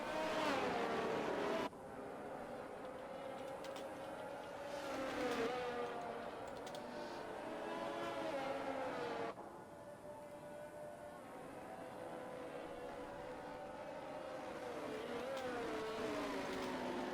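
Engines of F1 cars in a racing video game drone steadily through the Bahrain Grand Prix formation lap, a continuous layered whine with rising and falling pitch as cars accelerate.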